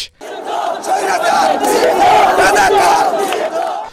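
Outside Hotel InterContinental, a street crowd cheers and shouts in celebration after a political ban is announced, a loud, dense roar of many voices that swells and holds steady for several seconds.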